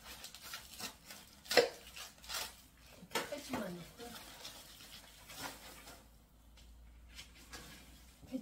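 A knife slices through a large napa cabbage being halved for salting on a balcony, giving a few scattered crisp cuts and crunches at moderate volume with soft handling noise between them.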